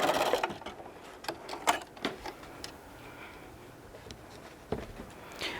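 A sewing machine stitches around fabric for a microwave popcorn bag, with short bursts of quick ticking needle clatter broken by pauses, faint and close by, with no talking.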